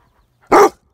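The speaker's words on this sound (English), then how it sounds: "You're barking today." A single loud dog bark, sharp and close, rising abruptly out of near silence and lasting about a quarter second.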